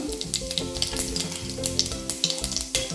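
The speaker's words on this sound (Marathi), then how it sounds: "तेल गरम झाल्यावर यामध्ये मोहरी घातली आहे जिरं घातलं आहे" Mustard seeds and cumin sizzle in hot oil in a pan, a dense crackling fry with frequent small pops and spatters, close and continuous, with no voices.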